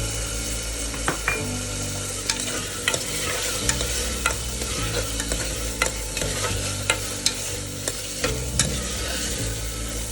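Tomato pieces and green chillies fry in a pan with onions while being stirred, giving a steady close sizzle broken by repeated sharp scrapes and taps of a spoon against the metal.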